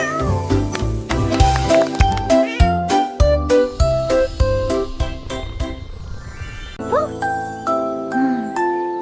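A large cat meowing loudly in a run of drawn-out, wavering cries over a bright musical backing with jingling tones, the calls close and prominent throughout.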